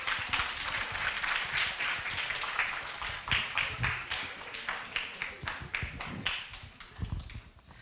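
A church congregation in a hall breaks into sustained applause, a dense patter of many hands that thins out and fades near the end.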